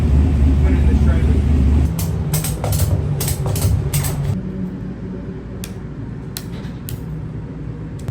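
A factory stock race car engine idles loudly nearby to cool down, a heavy steady rumble that drops lower partway through, with sharp mechanical clicks and taps over it.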